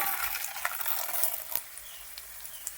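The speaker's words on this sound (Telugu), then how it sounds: "వేరుశనగ గుళ్ళు ఇలా వేగిపోయినాయి కదా" Peanuts frying in oil give a soft, steady sizzle with scattered small pops and a couple of sharper clicks.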